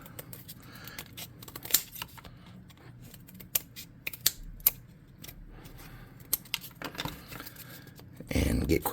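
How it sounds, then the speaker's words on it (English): Old scissors snip through terrain scatter pieces, trimming them into rough shapes: a run of sharp, dry clicks and cuts at an irregular pace, close and fairly quiet, with a louder rustle of handling near the end. "I'm going to get an old pair of scissors, and I'm going to give these some rough shapes so they don't look like squares"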